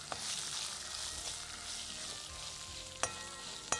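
Onions and urad dal sautéing in a pan for chutney give off a steady, close sizzle, with a couple of sharp metallic clinks near the end as a spoon strikes the pan.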